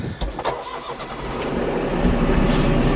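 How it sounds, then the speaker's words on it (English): A Mahindra tractor engine starts up outdoors, cranking briefly before catching and settling into a steady, loud mechanical run that grows fuller toward the end. "So we start the tractor up."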